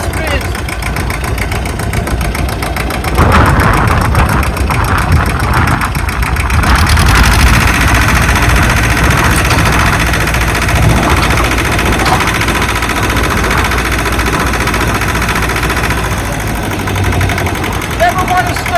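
A tractor engine running as its PTO engages a brush mower, a loud steady mechanical rumble that rises and grows busier partway through, with someone talking over it.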